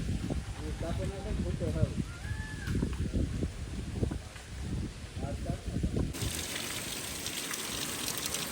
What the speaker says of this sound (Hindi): तो अभी बारिश बहुत तेज़ अभी आ रही है